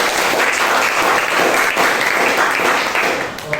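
A classroom breaks into steady, dense clapping for a group of students, loud and close, holding for several seconds before tapering slightly at the end.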